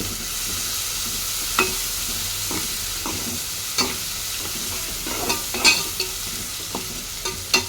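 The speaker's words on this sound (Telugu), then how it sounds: "అల్లం వెల్లుల్లి పేస్ట్ కూడా వేసేసుకొని మొత్తం కలిపేసుకుందాం" Ginger garlic paste is stirred into a frying village-style broad bean curry with pounded green chilies, giving a steady sizzle under repeated spoon scrapes and taps against the pan at an irregular pace, close and clear.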